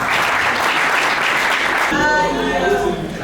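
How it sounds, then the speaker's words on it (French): Applause from an audience at an eloquence contest semi-final, dense and steady for about two seconds before a voice takes over and continues over fading clapping. "Est-ce qu'on peut encore applaudir une dernière fois pour mon contradicteur?"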